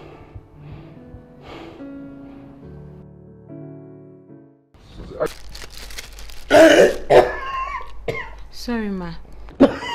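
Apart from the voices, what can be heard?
woman coughing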